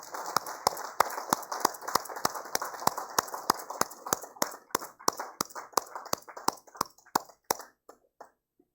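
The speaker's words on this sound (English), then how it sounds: "A big round of applause for the government of Bihar." An audience at a sanitation awards ceremony applauds the Bihar government: sharp, distinct hand claps in a steady rhythm, thinning out and slowing to a few final claps before fading to silence.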